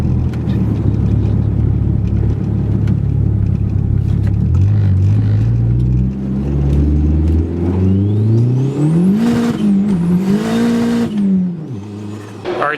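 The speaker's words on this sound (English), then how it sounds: "I'm going to mount the camera on the sunroof and let's go for a drive" A car heard from a camera mounted on its sunroof, engine humming steadily then revving up and down through gear changes, with wind and tire noise rushing loudly throughout and no voices.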